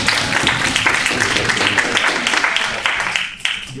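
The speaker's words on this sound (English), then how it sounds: "Let's give him a round of applause." Applause fills a room at a graduate student association general meeting, a dense, steady wash of many hands clapping close by that holds for several seconds before tapering slightly at the end.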